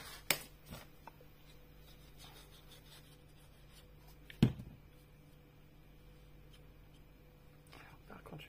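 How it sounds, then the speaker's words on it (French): A pencil lightly tracing guide marks on paper for a pop-up album interior, soft faint scratching strokes with a couple of sharper taps, close and quiet in a still room. "Je trace, je fais mes points de repère."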